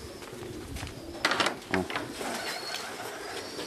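Pigeons coo softly inside a pigeon loft, a few low calls rising over a quiet background, with a brief spoken exclamation nearby.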